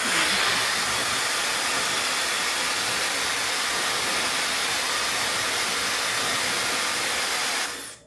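A hair dryer with hot and cold settings blows steadily and loudly at close range with a broad, even rushing hiss, then cuts off abruptly at the end.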